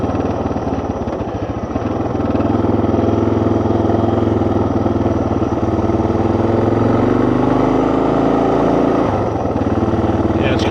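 A 2024 Suzuki DR 650 single-cylinder motorcycle idles with a loud, close, steady thumping, then revs off idle with a rising engine pitch before settling back down.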